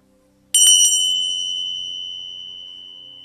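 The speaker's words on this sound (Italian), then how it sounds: "Con questo piccolo suono del campanello" Small meditation bell struck once, a bright clear ding with a quick double onset that rings on as a long, slowly fading tone in an otherwise quiet room.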